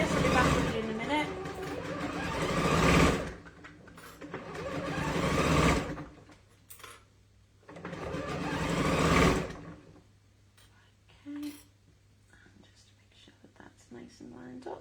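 A sewing machine stitches quilt blocks in short bursts of rapid whirring, three runs of a couple of seconds each with pauses between, close and fairly loud, with soft talk in the gaps.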